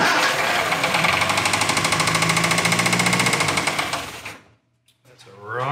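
An Austin-Healey Sprite engine fires up for the first time in ten years, running loud and close for about four seconds with a rapid, steady rocker tick in the top end before cutting out, followed by a brief quiet moment and faint noise.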